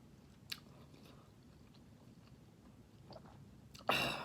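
Buldak spicy noodles being eaten up close, quiet chewing and a few soft bites, then a loud wet slurp bursting in near the end.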